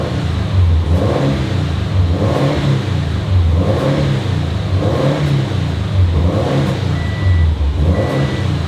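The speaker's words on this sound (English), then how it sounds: "and then when I rev it" A Subaru WRX STI with a failed head gasket revs in repeated swells, its engine note rising and falling in a loud, near, rhythmic cycle every second or so.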